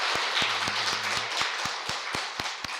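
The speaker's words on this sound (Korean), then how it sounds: "하나님께 영광의 박수를 올려드리겠습니다." A church congregation clapping during a Sunday worship service, a loud, sustained wash of many hands with sharp rhythmic beats cutting through at a steady pace.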